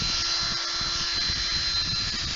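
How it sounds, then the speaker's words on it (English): A cordless drill spins steadily, winding fine 36 gauge wire into coils, a continuous near whine with a constant high tone running through the whole stretch. "Hopefully my drill's got enough charge to run this whole piece of wire"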